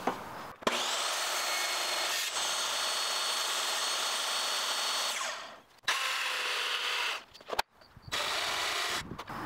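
Jigsaw cutting through a wooden window stool, a loud steady buzzing rasp running for several seconds, pausing briefly near the end, then resuming in short bursts.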